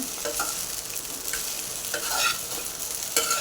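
Sabudana khichdi being stirred and tossed in a pan over low heat, a continuous soft sizzle with repeated scraping strokes of the spoon, close and steady with no talk.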